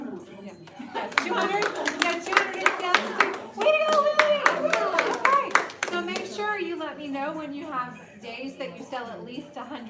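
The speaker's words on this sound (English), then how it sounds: "We want to applaud for you." An audience claps for salespeople at a sales meeting, sharp bursts of applause mixed with voices talking and someone speaking, the clapping thinning out as speech continues.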